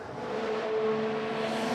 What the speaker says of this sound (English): As the cars come through Eau Rouge at lightning pace